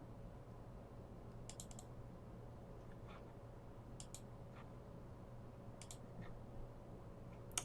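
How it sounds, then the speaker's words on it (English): Mouse double-clicks and typing on a computer keyboard while adding an annotation to a CTG trace in FetaLink 200 software; scattered light clicks and short bursts of keystrokes, faint and close, over a steady low hum. "the annotations are still made by double-clicking in the trace and adding the relevant information"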